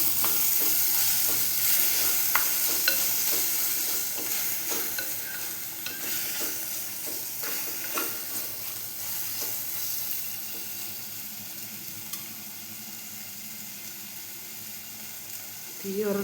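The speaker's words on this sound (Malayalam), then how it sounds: "പിന്നെ നമുക്ക് തക്കാളി ഇട്ട് കൊടുക്കാം. ഇളക്കി കൊടുക്കാം നന്നായിട്ട്." Steady sizzling of tomatoes frying in a pan for a fish curry, with a spoon stirring and scraping now and then, continuous throughout at a moderate level.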